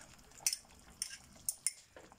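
A spoon stirs nettle soup with egg in a cooking pot on a gas stove, making a handful of sharp metallic clinks and scrapes at irregular intervals over a quiet background.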